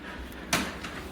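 A house door is pushed shut with a single firm thud, close and fairly loud, against quiet room tone.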